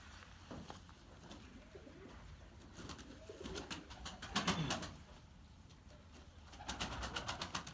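Iraqi pigeons (Mosul breed) coo softly in a few short rounds, rising and fading, against quiet background rustling and occasional wing flutters.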